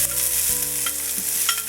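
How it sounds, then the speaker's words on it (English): Onion sizzling and being stirred in hot olive oil in a pan over medium-high heat, a steady close frying hiss with occasional scraping stirs, no talking. "Cook this onion up just till it gets soft."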